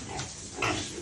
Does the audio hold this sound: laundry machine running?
no